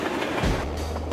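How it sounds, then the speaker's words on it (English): A locomotive-hauled train made from a modified car and caravans rolls along nearby, a steady low rumble with rattling wheel noise and a brief thump. "Ignore the enormous locomotive behind me."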